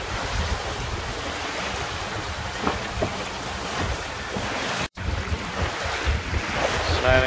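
A small trailer-sailer yacht under sail on open ocean near a high island, with a steady broadband wash of waves against the hull and continuous wind buffeting the microphone, loud and close throughout.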